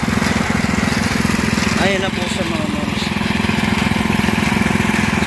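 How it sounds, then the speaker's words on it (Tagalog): A digging machine's engine drones steadily and close by while a swimming pool is excavated, a constant mechanical rumble running the whole time with a person talking over it. "Yung makina na ginagamit nila para panghukay."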